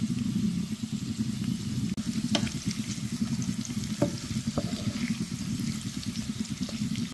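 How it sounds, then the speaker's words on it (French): Spices sizzling steadily in a frying pan with meat and vegetables, with pepper, paprika and dried garlic sprinkled over green beans, a continuous close crackle with a few clicks of stirring. "On va saupoudrer juste un peu, bien mélanger et on va laisser ça gentiment frire."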